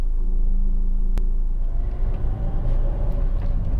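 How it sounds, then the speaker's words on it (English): A Honda Civic 2.2 i-DTEC EX GT five-door diesel hatchback drives on a road test, giving a steady low engine rumble with road and tyre noise from inside the cabin and one brief click. "This is a road test for a Honda Civic."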